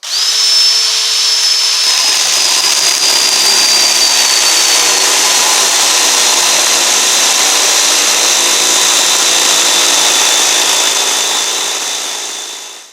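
A narrow-blade power saw cuts wood for a horse barn deck extension, whining loudly and continuously at high pitch for the whole stretch and dipping slightly as the cut goes on, with no talk.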